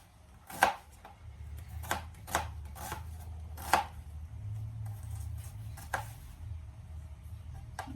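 Onions being chopped with a knife on a cutting board for adobong kangkong, sharp irregular knocks in short bursts, close and clear over a low steady background hum, with no talking.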